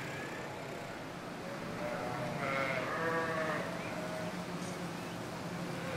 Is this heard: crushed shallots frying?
no